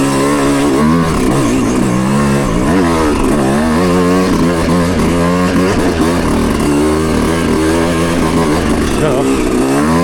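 A small-bore dirt motorcycle engine works hard on a trail ride, loud and close, its revs rising and falling repeatedly as the clutch is slipped, with no talking.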